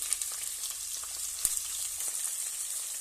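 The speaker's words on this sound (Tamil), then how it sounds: "எண்ணெய் சூடானதுமே ஒரு வெங்காயம் கொஞ்சம் கருவேப்பிலை கட் பண்ணி போடுறேன்" Chopped onion and curry leaves fry in hot oil: a steady, crackling hiss with small pops and one sharp spatter, close and moderately quiet, with no talking.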